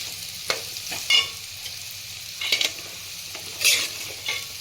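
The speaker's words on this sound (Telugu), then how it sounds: "చూడండి మంచిగా ఫ్రై అవుతుంది కదా" Beetroot curry fries in a pan, soft sizzling broken by several sharp stirring scrapes and clatters spaced irregularly, close and fairly quiet, with no talking.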